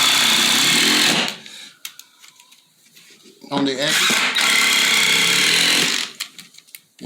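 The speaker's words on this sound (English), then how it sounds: "And this is an impact driver." An impact driver sets screws during a mobile home bathroom remodel, two loud sustained bursts of rapid hammering whir separated by a pause, with someone talking briefly between them.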